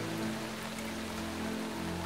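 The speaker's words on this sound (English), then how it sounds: "But the rain today is too heavy." Heavy rain pours steadily on a rural papermaking workshop, a dense unbroken hiss of falling water with a faint low hum beneath and no voices.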